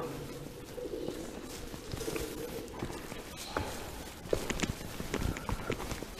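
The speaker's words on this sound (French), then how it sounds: "il y a un pigeon avec nous." Inside a church, a pigeon makes faint low sounds amid sparse scuffs, taps and footstep-like knocks in a quiet, echoing space.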